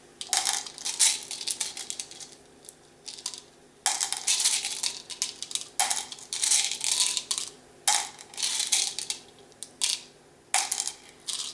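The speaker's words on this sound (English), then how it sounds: "randomly select 10 beads from beaker 1 and place them in an unused beaker" Glass beads are picked from one beaker and dropped into an unused beaker, making bursts of clattering, rattling clinks in repeated clusters separated by short pauses, close and fairly loud.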